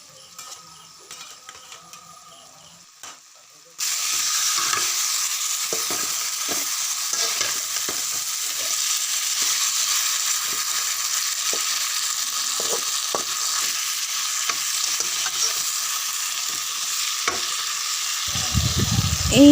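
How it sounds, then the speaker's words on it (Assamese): Goat meat tossed with spices in a hot pan, starting with a quiet stretch, then a loud, steady sizzle with scraping and stirring clicks running on to the end. "এইদৰে মাংসটো ভালদৰে হিলাই লৈছোঁ, মানে মছলাখিনিৰ লগত মানে ভালদৰে হেৰি কৰি লৈছোঁ।"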